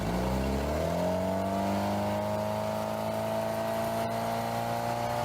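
A Mercury 3-litre boat engine with added horsepower and a cone intake revs up then holds a loud, steady droning note, with no talking over it.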